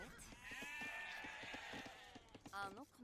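Sheep bleating in the real-time strategy game Age of Empires, a couple of wavering calls heard clearly over steady game ambience and clicking unit sounds.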